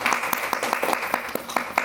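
Clapping at an African cultural celebration, a fairly small audience applauding with distinct individual claps standing out over a steady patter, lively and close.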